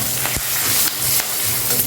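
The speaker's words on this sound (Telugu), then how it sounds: "ఇప్పుడు కరివేపాకు కొంచెం వేసేసుకోండి ఇందులో." Curry leaves hit hot oil in a tempering with turmeric and asafoetida for semiya pulihora, a close, steady crackling sizzle throughout.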